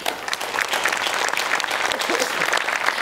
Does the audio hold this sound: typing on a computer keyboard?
no